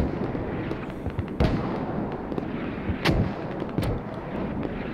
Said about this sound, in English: We're probably going to see mortars starting to land over here at gas station